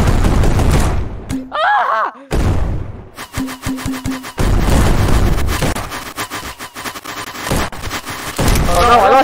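Rapid gunfire bursts from a gun in Super Smash Bros, dense and loud, mixed with game effects and a brief shout from a player.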